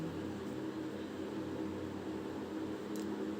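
A sewing machine runs steadily while stitching rolled piping on fabric, giving a continuous, even motor hum with a soft mechanical whir that stays at one level throughout.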